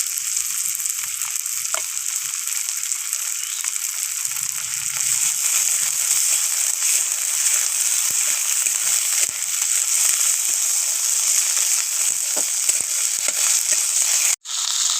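Onion and ginger paste frying in a pan with green chillies, giving a steady, close hiss that carries unbroken for the whole stretch, with a few faint scrapes and clinks and one brief break near the end.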